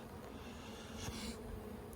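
Honey bees crowd a full hive frame during an inspection, giving off a steady, soft buzzing hum that holds evenly throughout with no voices over it.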